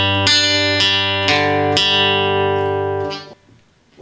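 An acoustic guitar picks a song's intro pattern slowly, with about four evenly spaced plucked notes ringing over a sustained chord before fading.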